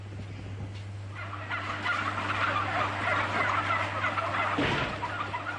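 Many turkeys gobble together inside an enclosed poultry farm shed, a dense, continuous chorus over a steady low electrical hum from ventilation, with no voices.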